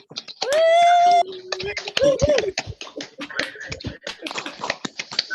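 Audience applause at an LGBT poetry open mic fundraiser for Stonewall Housing: a dense patter of claps from a small crowd, with a few whoops and voices over it early on, thinning toward the end.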